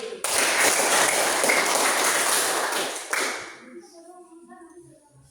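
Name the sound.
applause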